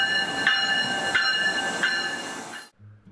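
A commuter train arrives close by with rumbling wheels and a steady metallic hum, periodic clanks from the cars, then stops abruptly.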